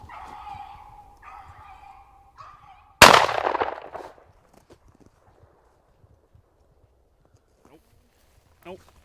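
During a rabbit hunt in the Michigan woods, a single loud, sharp gunshot cracks and echoes away. Just before it, a hunting dog bays in short bursts, and the scene goes quiet afterward.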